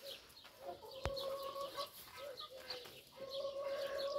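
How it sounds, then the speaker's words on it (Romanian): Young roosters on a farm give a run of clucking and crowing calls, with other birds chirping around them and a sharp knock partway through. "Dar și aici am cocoșei."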